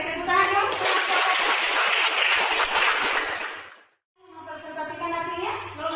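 A classroom bursts into dense clapping for about three and a half seconds, then stops abruptly before a voice starts speaking close by.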